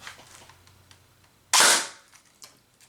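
An externally modified airsoft gun is dry fired once, giving a single sharp, loud snap with a quick fading tail after light handling noises.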